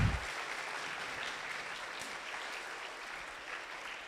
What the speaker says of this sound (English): let's give Coach Helmer one more round of applause.